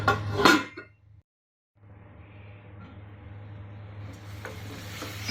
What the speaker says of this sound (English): So we're going to lid this one.